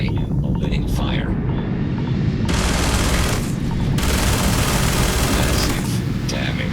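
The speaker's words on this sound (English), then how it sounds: "I am opening fire." Heavy weapon fire in the sci-fi game Starfield rattles in dense, continuous bursts with booming impacts, loud and close, filling the whole stretch without pause.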